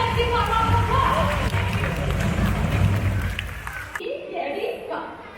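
Audience applause for a row of big pelicans at a bird show at Bird Paradise Singapore: a dense, loud wash of clapping and crowd noise that stops abruptly near the end, leaving faint voices.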